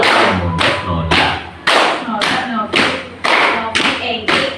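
A classroom group plays the tepuk konsentrasi clapping game during a counseling practice session, giving about nine sharp, evenly spaced claps close by, with brief voices between some of them.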